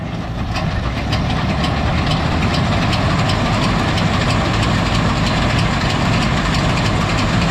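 A yellow Bizon Z056/2 combine harvester engine at full throttle, its loud, steady, close roar running without a break and with no talk.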